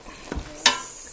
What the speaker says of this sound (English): All I do is I just keep stirring it